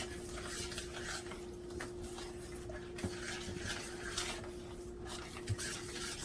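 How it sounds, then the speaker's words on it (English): A spoon stirs a thick cornmeal mixture in a pot in a home kitchen, making soft, continuous scraping and swishing with occasional light clinks against the pot, faint and close with no talk. "What I'm gonna do now, I'm going to mix the cornmeal, mix it around."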